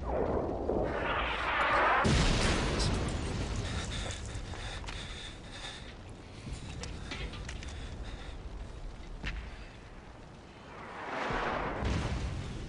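Explosions and artillery fire in a war film, with heavy booming blasts rumbling near the start and again near the end, and lighter rattling battle noise between them.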